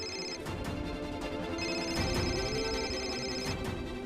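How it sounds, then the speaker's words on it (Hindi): Phone ringtone ringing, a melodic tone pattern repeating over a few seconds, fairly clear over a low background, with no talking. "ये तो पाड़ी की रिंगटोन है।"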